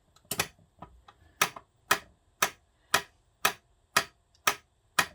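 Metronome ticking steadily at 120 beats per minute, with sharp, evenly spaced clicks close up and nothing else heard. A few softer, irregular clicks come before the steady beat settles in.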